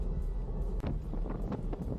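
Strong wind during a bike ride in Laguna, Philippines buffets the microphone with a steady low roar and gusty rumble throughout, loud and close, with no one speaking.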